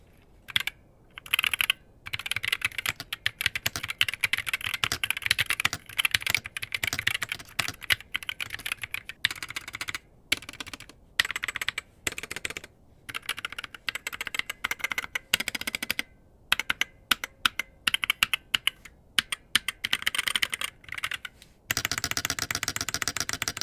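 Rapid typing on a Punkston Tezarre TK63 gaming keyboard with optical switches, dense bursts of clacking keystrokes broken by short pauses, close and loud, ending in a steadier stretch of continuous keying.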